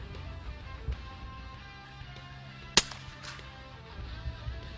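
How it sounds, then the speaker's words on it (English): A single sharp, snappy shot rings out from a pellet gun fitted with a Predator silencer, a brief crack standing out clearly against a quiet background. "listen for the noise that the silencer makes when you shoot"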